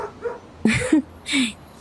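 A dog yips and whimpers in a few short, close, high-pitched bursts over a quiet background.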